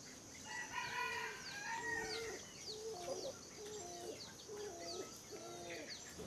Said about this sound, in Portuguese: Laura, isso é só um galo, Laura.